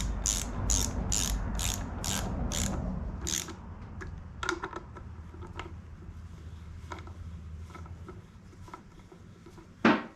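A ratchet clicks in rapid bursts drawing up bolts on a Subaru EJ25 engine, with loud close pawl chatter at first, then scattered lighter clicks and metallic taps, ending with a sharp clank.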